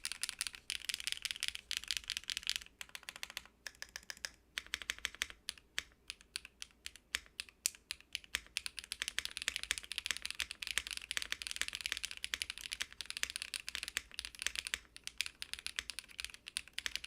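Rapid, continuous typing on a computer keyboard, close and clicky, with brief pauses between bursts of keystrokes.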